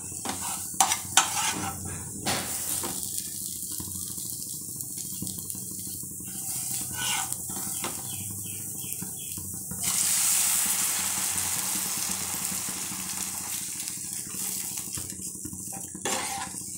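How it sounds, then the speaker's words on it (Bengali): Frying masala for a village-style kaliya gravy is stirred with clinks of a utensil against the pan, then water is poured in and sets off a sudden loud hiss that lasts several seconds before settling back to a sizzle. "জল দিয়ে দেব।"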